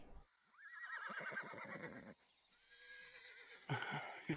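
A horse whinnies loudly in a cowboy-themed video game, a long rising neigh with rapid fluttering pulses, followed after a short lull by snorting and a second burst.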